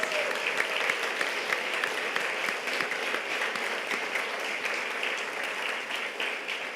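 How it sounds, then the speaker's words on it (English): An audience claps steadily, a dense wash of applause that holds at an even level throughout. "so can we just give Lena another round of applause?"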